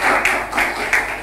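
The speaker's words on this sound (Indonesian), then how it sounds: "Tepuk tangan sekali lagi untuk Arung." Brief burst of audience clapping for a performer at an indoor lecture-performance, a soft, steady patter of hands in a few rhythmic swells.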